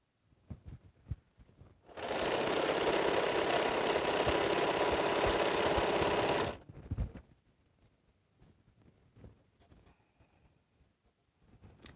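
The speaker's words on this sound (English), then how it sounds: "And then I can sew to where my hand is holding my fabric and don't go any further." A sewing machine stitches a quilt border in one steady, loud run of about four and a half seconds, with quiet handling noises before and after.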